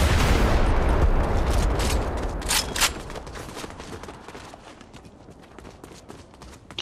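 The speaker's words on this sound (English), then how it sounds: "People behind us shooting at us." Gunfire in a video game as players come under attack from behind, a dense burst of loud shots and impacts at the start, then thinning into scattered, quieter pops and clatter.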